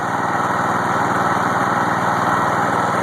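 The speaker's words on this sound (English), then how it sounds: "you heard the generator pick up just a little bit of the load" A homemade patchwork generator engine runs steadily under electrical load, a loud, constant buzzing drone with no pauses and no voices over it.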